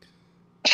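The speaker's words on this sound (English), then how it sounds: "Now you're making me cough." A man gives a single sharp cough up close, coming after a moment of near quiet.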